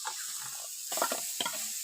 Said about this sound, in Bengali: এবার নেড়ে নেবে ডালটা একটু